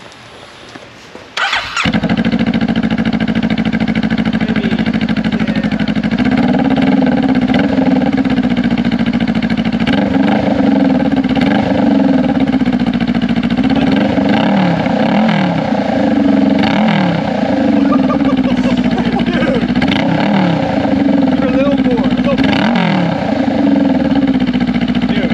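A Honda Rebel motorcycle engine cranks and fires up, then idles loud and raw with repeated sharp revs and throaty pops from an open Coffman's exhaust with the baffle removed.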